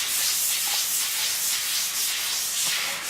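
A bowling ball is resurfaced by hand with fine 360-grit abrasive, a steady close hissing rub with gentle rhythmic swells as the sanding strokes repeat, with no talking.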